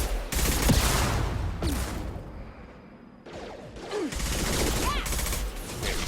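Assault rifles fire in Mass Effect 2 during a fight against mechs, with loud, rapid bursts of automatic fire in two stretches separated by a brief lull, with other battle noises mixed in.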